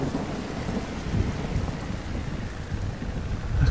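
Rain falls steadily in the video game Submerged: Hidden Depths, a dense hiss with low rumbling beneath, constant and moderately loud with no voices.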